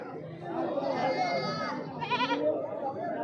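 Goats bleat at a busy livestock market, quavering calls rising over a steady crowd murmur, with people talking nearby and the bleats close and clear.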